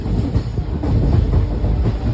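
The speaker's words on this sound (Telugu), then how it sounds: "చూడు ట్రైన్ చూడు" A train passing close by, loud rhythmic clickety-clack of wheels over rail joints with a heavy rumbling roar throughout, no talking.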